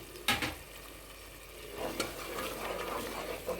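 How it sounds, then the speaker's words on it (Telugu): Masala frying in oil in a pan as tomato puree is added for chole masala, giving a steady low sizzle with a few sharp spoon scrapes and clinks against the pan, close and moderately quiet, with no talking. "ఇప్పుడు మనం టమాటో పూరి చేసుకున్నాం కదా అది కూడా వేసేసి వేయించుదాం"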